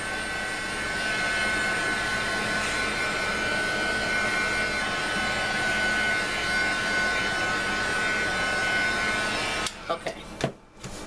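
A handheld dryer blows steadily on mixed media doll stamp craft work, a continuous loud whirring hum that holds for nearly ten seconds before clicking off into a few brief handling noises.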